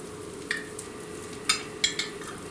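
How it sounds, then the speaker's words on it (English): Chicken and bacon chaffle batter hisses and sizzles on a hot chaffle maker, a steady close sizzle with a few short sharp crackles, no talking. "I'm going to put it on my Chaffle maker."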